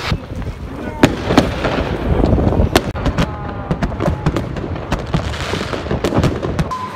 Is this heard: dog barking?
no